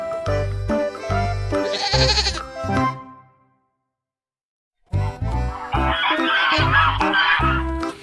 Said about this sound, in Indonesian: ada angsa dan domba